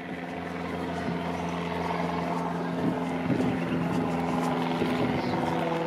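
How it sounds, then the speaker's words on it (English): A steady, droning engine hum with a propeller-like throb, sustained throughout at moderate loudness, an airplane passing overhead at a distance above Riverdale Park in Toronto. "that's an airplane right there."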